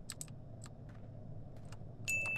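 A set of keys jangles in a short series of bright metallic clicks when picked up in a dark horror-style video game, heard alone over a quiet, hissing background.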